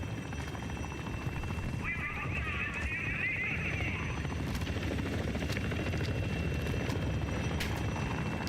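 A helicopter thrums overhead in the Call of Duty Black Ops 6 video game, a steady rotor drone that persists under game effects and a brief tonal burst, with players talking over it.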